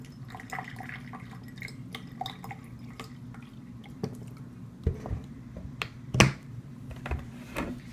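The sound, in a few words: pouring water into a cup of layered liquids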